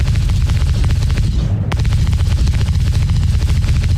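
Star Citizen ship weapons with newer, realistic sound design: a continuous heavy barrage of deep, bassy booming shots, loud and dense throughout with one brief dip, no voices.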